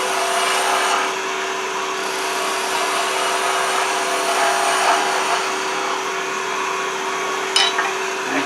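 Wood lathe spinning steadily with a constant tonal hum as a tool tapers a wooden cutting board handle, with broadband cutting hiss rising and falling and a brief sharp scrape near the end.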